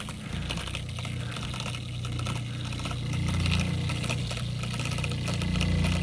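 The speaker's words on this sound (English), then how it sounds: "We're just going to turn the pump on." Small water pump drawing water from a storage bladder into a camping trailer, a steady moderate whir with a watery, slightly bubbly rush from cavitation, swelling a little louder midway and continuing without voices.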